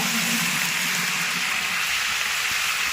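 A steady, close crackling sizzle of curry leaves frying in hot oil, a continuous hiss with no talking.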